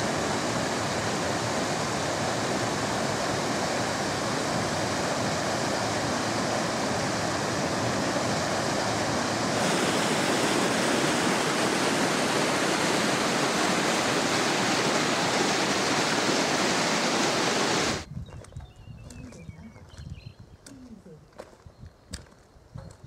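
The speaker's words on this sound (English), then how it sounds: "The River Gaur." River Gaur in the Scottish Highlands rushes in a dense, continuous roar of flowing water for most of the stretch, then cuts abruptly to a much quieter, sparser background with scattered faint sounds.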